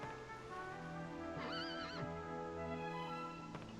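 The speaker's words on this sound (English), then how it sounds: "That horse tethered up over there is a real beauty." A horse neighs in the Dragon Quest 8 video game, a single rising, wavering whinny over a steady layer of game music and ambient tones.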